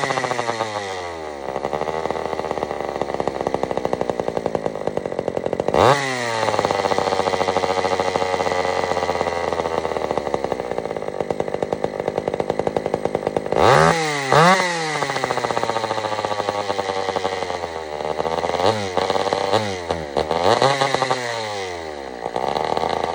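An old Sears Explorer II chainsaw engine running after repair, buzzing loudly and steadily up close, with several sharp revs up and down along the way.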